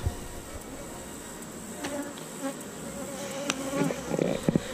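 Honey bees buzz steadily and close around a hive being relocated, a dense insect drone with brief faint knocks of equipment and no talk.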